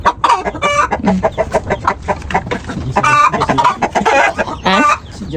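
Backyard chickens clucking steadily and close by, a busy overlapping run of short cackling calls with no talk over them.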